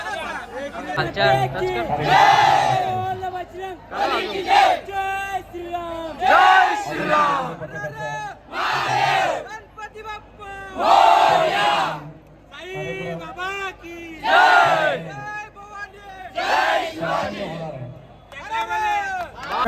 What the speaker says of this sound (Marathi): भेटले पोरा काय ऐकतच नाही फुल जल्लोष मध्ये फुल जल्लोष मध्ये आहेत पोरा